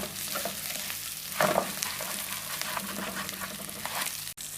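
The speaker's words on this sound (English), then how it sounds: "And then continue stirring." Fried rice in a frying pan, salted and stirred, sizzles steadily up close while a utensil scrapes and stirs through it, with one brief sharp knock near the end.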